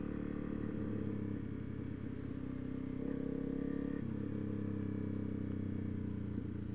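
A Honda CRF250L dirt bike rides along a muddy dirt road in winter, its engine a steady close drone with slight rises in revs.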